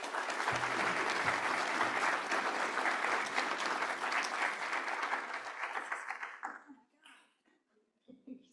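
An audience at a conference plenary session breaks into loud, steady applause to welcome a speaker. The clapping holds for several seconds, then thins out and fades, and a few faint sounds follow.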